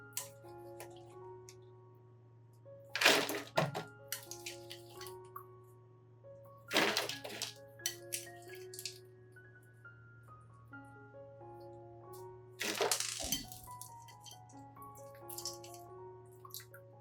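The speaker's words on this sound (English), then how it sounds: "I rinse the growing medium thoroughly with clean water to remove any remaining lime or debris" Orchid growing medium is rinsed with clean water: quiet drips and light ticks run throughout, broken by three brief splashing pours of water, with no talking.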